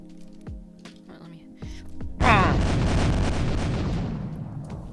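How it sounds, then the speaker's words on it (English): Faint video game sounds and soft clicks give way to a sudden loud car-destroying explosion, a sharp blast followed by a rumbling roar that slowly fades. "Let's see how big his explosion is."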